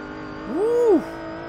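A single tire squeals briefly from one-wheel wheelspin on a 700 HP twin-turbo minivan in Forza Motorsport 7, as a pitched whine that rises and falls over about half a second above a low engine hum.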